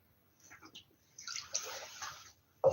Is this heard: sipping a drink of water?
yes